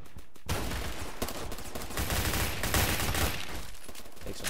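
Sustained automatic gunfire in the Roblox game Phantom Forces, a loud, continuous rapid rattle of shots with no break for several seconds.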